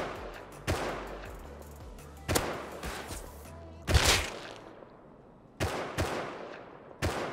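Gunfire in the survival game Rust: sharp shots ring out one at a time or in short bursts, each with a long fading tail, six or seven reports spread over several seconds against a dull rumbling backdrop.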